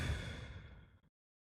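A single slow, gentle exhale during a calm breathing exercise, a soft breathy whoosh that fades out over about a second, close and quiet, followed by silence.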